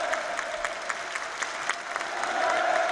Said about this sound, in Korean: 폭풍 같은 만세 환호성을 터치 올렸습니다